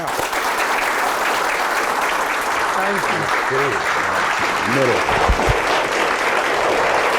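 Loud, dense applause from a live audience welcomes a Punjabi singer on stage, a steady wash of clapping that runs throughout, with a voice speaking briefly over it midway.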